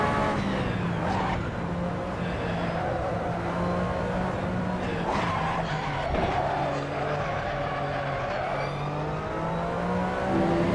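A Porsche 911 RSR race car in Assetto Corsa holds a loud, sustained engine drone through gear changes while the front left tyre locks and squeals under braking, continuous and close throughout.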